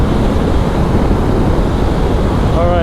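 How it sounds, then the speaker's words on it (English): Cold wind roars steadily and loudly across the microphone of a moving motorcycle, a continuous broadband rush without breaks. "That wind is cold."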